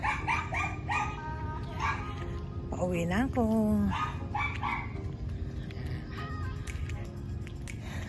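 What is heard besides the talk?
small dogs barking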